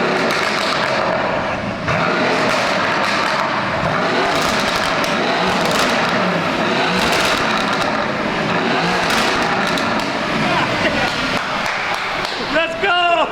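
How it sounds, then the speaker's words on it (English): A car engine at a car meet revs hard and holds a loud, sustained roar, with a rising whine near the end. Excited voices call out over it. "rev it out, man"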